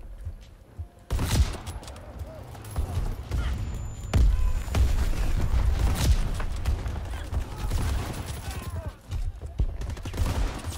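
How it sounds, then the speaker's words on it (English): Gunfire in the World War II shooter game Call of Duty: WWII sounds as a burst of sharp shots with a few scattered later cracks, mixed with game noise and someone talking. "Freddy, I'm gonna have to ask you to stop shooting randomly and hitting my head"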